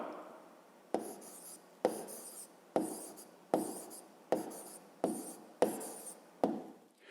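Handwriting the answer to a fifth-grade math decoding exercise, with eight evenly spaced pen strokes scratching across paper, each a short sharp scrape that fades, close and clear with no talking.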